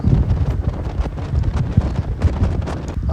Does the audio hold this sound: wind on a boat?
yes